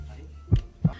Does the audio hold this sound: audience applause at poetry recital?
no